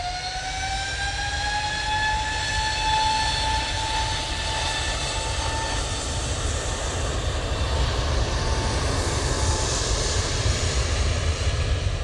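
A Lufthansa airliner at Manchester Airport gives a steady, fairly loud jet roar carrying high whining engine tones that slowly glide downward, unbroken throughout.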